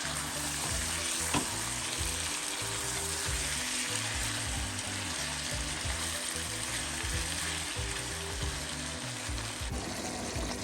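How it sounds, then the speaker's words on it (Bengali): Beef sizzling and frying in a pot while being turned for kosha, a steady dense crackling hiss with a rhythmic low scraping of stirring throughout, close and unbroken by speech. "এরপর কিছুক্ষণ পর আবার একটু উল্টে দিল নেড়ে চেড়ে দিল আর কি গরু মাংস"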